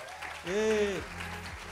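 A short burst of audience applause at a diversity event swells quickly and fades within about a second, with a voice speaking over and around the clapping.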